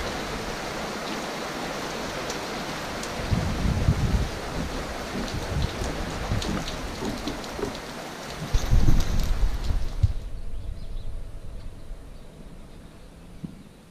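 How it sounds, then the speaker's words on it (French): Rain falling outside a gîte on the Compostela trail, heard from under shelter: steady hissing patter with heavier low drumming bursts of drops, then softening abruptly near the end. "C'est bon quand il pleut qu'on est à l'abri."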